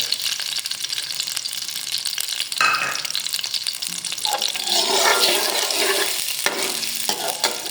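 Chopped garlic goes into hot oil for a mutton karahi, and a steady loud sizzle carries throughout. Bursts of stirring and scraping in the pan come in over it, close up, with no talking.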